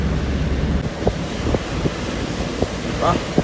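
Strong cyclone wind roars steadily against the microphone during heavy rain in Jaffna, a constant loud rush with occasional gusting thumps and no clear talk.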